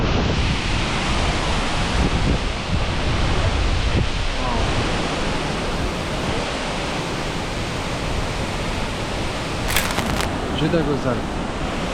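Steady, loud roar of water pouring down a high waterfall fills the whole scene, a dense unbroken rush with a brief voice speaking over it near the end.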